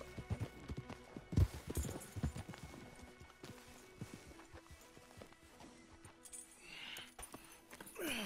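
Horses walk with steady clip-clop hoofbeats in the video game Red Dead Redemption 2, close and moderately loud, with a thump, faint game ambience and brief voices near the end.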